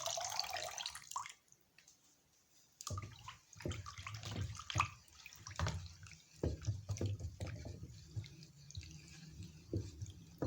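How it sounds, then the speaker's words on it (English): Dissolved light pink liquid for a homemade air freshener poured into a bottle, irregular splashing and trickling with gurgles and drips, a brief pause early, then uneven pouring bursts, close and fairly quiet. "So let's pour it and see how the color looks like."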